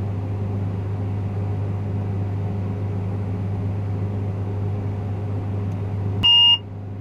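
A single short, clear electronic beep sounds from a Case IH combine cab during corn head header height calibration, rising over a steady low engine hum near the end.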